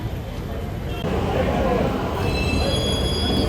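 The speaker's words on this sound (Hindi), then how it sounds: "हम पहुंच गए मेट्रो स्टेशन" A metro train at a station, a steady loud rumble of rail noise that swells partway through, with faint high wheel squeal toward the end.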